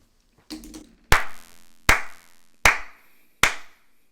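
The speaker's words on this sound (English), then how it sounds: "Yeah, clap." Five sharp, separate hand claps, close and loud, each ringing out briefly in a reverberant room, spaced about three-quarters of a second apart after a few softer taps.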